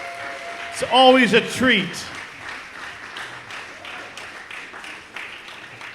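Audience applause for an ensemble at an on-air concert, a moderate spread of clapping that carries on beneath a host speaking briefly.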